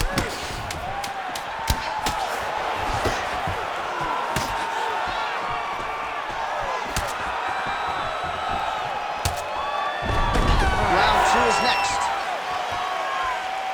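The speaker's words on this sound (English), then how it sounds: "a standing ovation from this capacity crowd after that round" Capacity arena crowd in the UFC 5 video game roars in a sustained ovation after a round, steady broad cheering throughout with a louder swell near the end and occasional thumps.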